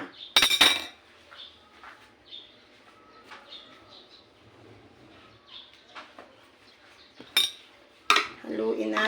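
A drink being stirred in a glass container, with a few sharp clinks of utensil against glass and soft handling noises between them.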